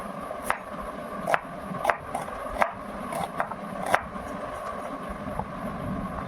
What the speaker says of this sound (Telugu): వెజిటబుల్స్ చాప్ చేసుకుందామండి